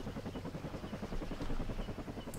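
A helicopter in the video game Vietnam '65 drones with a steady, close rotor chop, its pulsing beat loud and continuous, and no voices over it.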